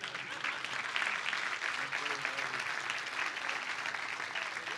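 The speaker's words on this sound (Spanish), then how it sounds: "Me merezco un aplauso." Steady applause from a church congregation at a sermon by Pastor Ángel Caputo, a moderate wash of many hands clapping that continues evenly throughout.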